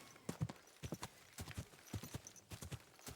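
Horse hooves clip-clop in a steady, brisk rhythm of faint, distinct beats across the whole stretch, a ridden horse moving quickly in the medieval game Kingdom Come: Deliverance.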